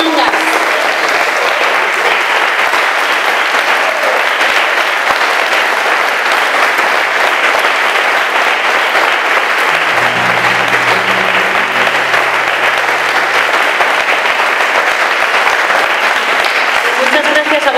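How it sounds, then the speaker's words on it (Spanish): Sustained, loud applause from a large concert audience at the Monasterio de Rioseco in Burgos, steady clapping filling the whole stretch without a break. "no sin antes pedir un fuerte aplauso para Mariano Mangas."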